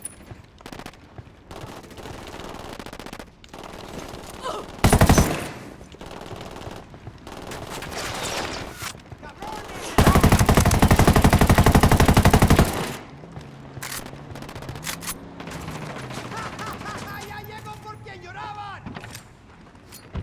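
Bursts of automatic gunfire from a Tom Clancy's Ghost Recon firefight, loud rapid volleys with one sustained long burst, intermittent single shots and game effects, while a player talks excitedly over the action.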